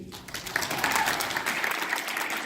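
Audience applause at a whole-food, plant-based nutrition forum, a sustained crowd of hands clapping at fairly steady loudness, with faint voices mixed into the clapping.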